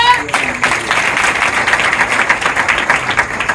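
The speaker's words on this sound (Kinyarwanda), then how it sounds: "dukomere Imana amashyi kandi cyane" A church congregation applauds loudly, a dense sustained roar of clapping that fills the space without pause.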